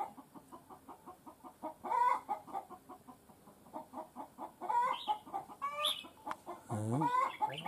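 A young trainee decoy bird calls repeatedly in short clucking bursts, close by, with a few louder rising notes breaking the steady rhythm over a quiet outdoor background.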